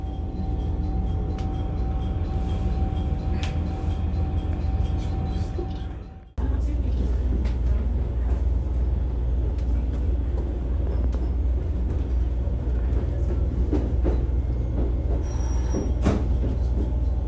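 Setsugekka resort gourmet train in Japan pulling into a station, heard from inside as a steady low rumble with faint wheel squeal and clicks, continuous and fairly loud, with a brief dip partway through and no talking.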